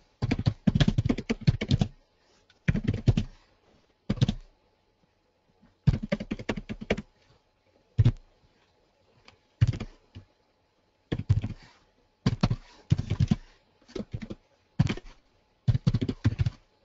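Typing on a computer keyboard while entering SAS code, heard as bursts of quick clicking keystrokes separated by short silent pauses, close and clear.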